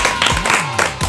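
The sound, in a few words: audience applause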